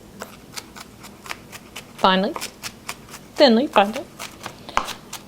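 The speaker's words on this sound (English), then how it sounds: "you're going to dice this up pretty nice and finely" Knife finely dicing vegetables on a cutting board for shrimp creole, a fast, even run of crisp close taps, with brief bursts of talk over the chopping.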